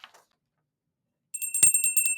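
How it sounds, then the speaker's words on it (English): A bright metallic wine bell rings several times in quick succession with a sustained tone, after a brief faint sound and a stretch of silence. "Did you ring the wine bell?"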